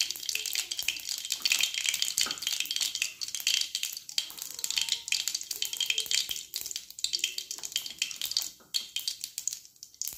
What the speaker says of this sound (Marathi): तळकते आता मोहरी।